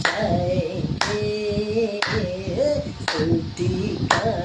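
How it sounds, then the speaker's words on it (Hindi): Hands clap in time from a congregation at a worship meeting, crisp group claps landing roughly every second alongside a singing lead voice and the crowd. "ताली बजाएंगे"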